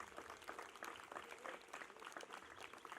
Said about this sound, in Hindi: मैं आपसे एक बार निवेदन करना चाहता हूं कि आप इस संस्था के सम्मान में ताली बजाकर इसका